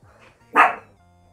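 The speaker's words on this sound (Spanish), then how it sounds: "ahí mi perrita que ladra" A small female dog gives a single sharp bark, fairly close, against an otherwise quiet room.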